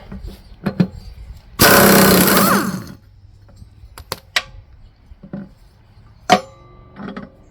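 A socket wrench at work removing a pulley on a John Deere Freedom 42 mower, with a loud one-second whirring burst from a power tool amid scattered metallic clinks and knocks.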